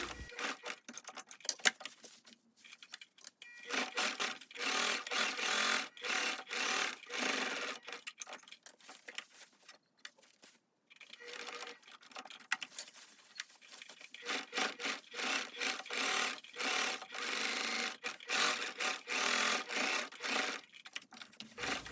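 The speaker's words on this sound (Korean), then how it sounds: "주머니 먼저 두 줄로 스티치를 합니다" A sewing machine runs in bursts of rapid stitching, sewing a double row of stitches along the pocket of a hooded parka coat. Loud and close, with short pauses between runs and no voices.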